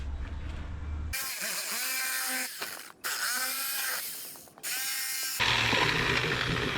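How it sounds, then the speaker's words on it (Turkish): A power tool cuts through the plastic side cover of a caravan seat, loud whining and rattling in three long bursts with brief pauses between them, close and harsh. "Şimdi plastiğimizin yani yan kapamasının, koltuğun yan kapamasının şu üst tarafını keseceğim."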